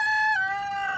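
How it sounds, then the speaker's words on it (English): A single rooster crows nearby in a farmyard, one sustained harmonic call that bends slightly downward partway through, alone and fairly clear. "And I'll let the chickens out."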